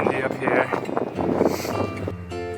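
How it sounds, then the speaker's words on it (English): Cold, brutal wind gusting across an exposed Appalachian mountaintop by a fire tower in subfreezing winter, a rough rushing buffet close on the microphone, with speech and other noise mixed in. "That wind really is brutal."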